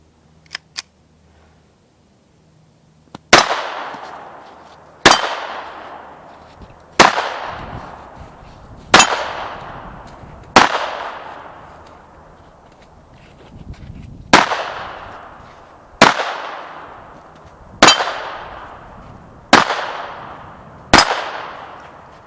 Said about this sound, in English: you try and move around on a line while you're sending rounds downrange and trying to hit your target